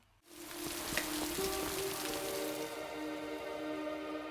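Heavy rain pouring down at a bus stop, a dense steady hiss of drops on surfaces that starts abruptly and holds evenly throughout, with no voices.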